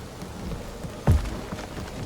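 Rain falling in the Guardians of the Galaxy video game, a steady hissing downpour with one deep, rumbling thump partway through.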